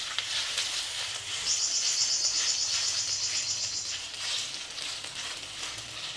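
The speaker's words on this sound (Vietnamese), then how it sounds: "Chảo bắt đầu nóng, mình sẽ cho hủ tiếu mềm vào áp chảo." Soft rice noodles for beef chow fun sear in a hot, oiled pan with a steady, close crackling sizzle that swells slightly partway through and carries on with no talking.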